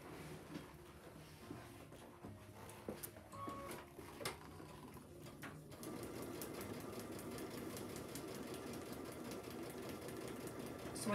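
A sewing machine stitches a quilt panel, starting with faint clicks and handling noises and then running in a steady, quiet hum for the rest of the clip.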